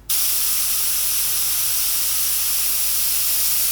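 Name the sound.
airbrush spraying paint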